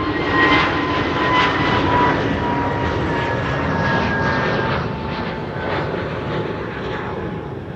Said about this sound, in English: Transavia A321neo to Alicante.